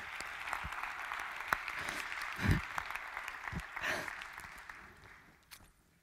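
Applause from an audience of about 400 people at the CAS 2015 conference talk, a steady crowd clapping over roughly six seconds that swells and then tapers off toward the end.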